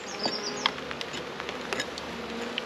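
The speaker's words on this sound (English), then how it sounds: "These bees landed on Andy." Buckfast honey bees buzzing around an open hive on a wet spring day, a steady soft drone with individual bees whining past close by, no voices.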